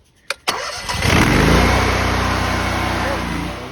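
A pressure washer's small gasoline engine is started with a couple of quick pulls, then catches and settles into a loud, steady idle close by.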